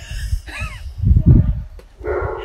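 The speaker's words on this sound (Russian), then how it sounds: "Вы слышите, это дикий лай." Dogs bark a few times amid chaotic, noisy activity, with brief yips and scuffling; the barking is close and irregular rather than a steady run.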